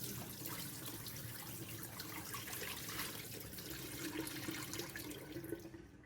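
Rinse water from washed anchovies draining in a sink, a continuous soft gushing and trickling flow that holds steady for several seconds before tapering slightly, faint and close with no talking.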